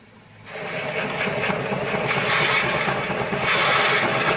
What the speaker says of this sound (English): So on a slow speed I'm going to start drilling this blank